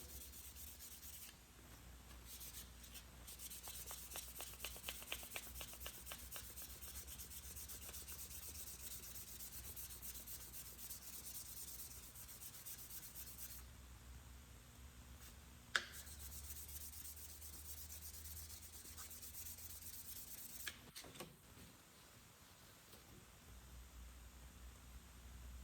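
Hand sanding a hammer with 600 or 400 grit sandpaper to polish it, a steady close scratchy rubbing in back-and-forth strokes that runs on at length, with a couple of sharp taps and no talking.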